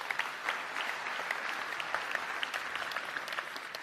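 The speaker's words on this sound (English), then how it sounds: "I reckon we should give Didier another clap." An audience at a business conference claps together, a steady, lively patter of many hands that stays fairly even from start to finish with scattered sharper claps.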